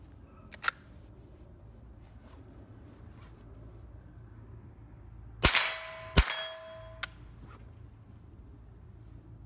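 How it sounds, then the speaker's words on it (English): A Chiappa M1-22 carbine misfeeds, giving two or three sharp metallic clangs and a ringing ding from the action close by, with no one talking. "That is an actual misfeed we had there,"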